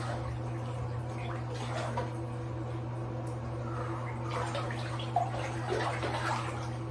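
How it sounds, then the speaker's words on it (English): Moving water gurgles and sloshes steadily under a constant low hum, a continuous close churn with no voices. "See how the water's moving?"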